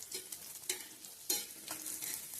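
Tarli fish fry in a pan, a soft crackling sizzle with a few sharper spits and stirring clicks, close but quiet, with no talk.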